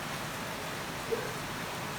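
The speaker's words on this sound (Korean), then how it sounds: "또 생일이라고 이렇게 비가 오나요?" Rain falling on a golf course, a steady even hiss of drops throughout, moderately loud and close, with no talking.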